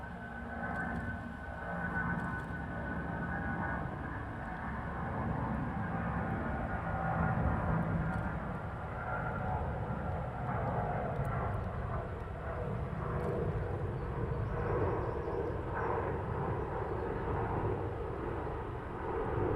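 Airliner taking off at Heathrow Airport, a broad, sustained jet roar that swells and holds steady for the whole stretch, heard from a distance with no talk over it.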